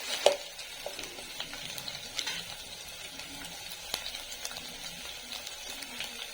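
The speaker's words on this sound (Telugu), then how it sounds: "అల్లం వెల్లుల్లి పేస్ట్ పచ్చి వాసన పోయిందాక వేయించుకుందాం" Ginger garlic paste fries in a pan for egg biryani, making a soft, faint sizzle. Occasional light clicks and stirring scrapes come through close by, and no one talks.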